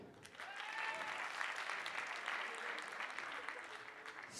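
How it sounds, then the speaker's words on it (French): Audience applause at a 2011 apprentice theatre showcase in France, steady dense clapping from a crowd that carries on for several seconds, with a few faint voices underneath. "Les interprètes sont Bastien, Joé, Jonathan et Loïc, que l'on peut encore applaudir."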